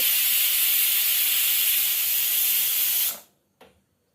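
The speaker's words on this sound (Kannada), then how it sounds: "ನೋಡಿ ವಿಸಿಲ್ ಬಂದೇ ಬಿಡ್ತು" A pressure cooker whistles loudly while kushka rice cooks, a sustained hissing steam release lasting about three seconds before cutting off, followed by a brief short puff.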